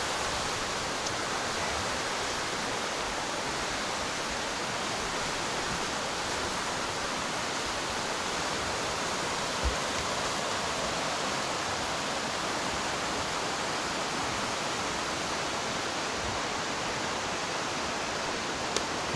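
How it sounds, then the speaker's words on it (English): A small creek beside the Loyalsock Link Loop hiking trail flows in a steady, even rush of water, constant and moderately close with no voices over it. "Nice little creek there."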